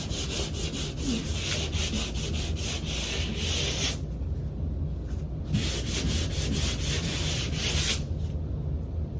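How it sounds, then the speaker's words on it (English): Continuous rhythmic hand sanding of dried spackling, a dry scratchy rubbing with back-and-forth strokes, close and fairly loud throughout. "Just sanding her down, getting her done."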